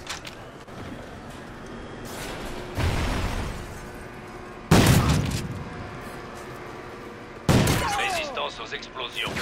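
Gunfire and explosions in Call of Duty: Ghosts during a free-for-all match on the Sovereign map: a steady run of shots builds into several heavy booming blasts, each loud and sudden, with a player talking over the action.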